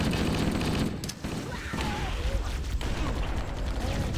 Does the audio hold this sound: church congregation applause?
no